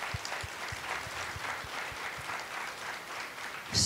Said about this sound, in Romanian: vreau să o aplaudăm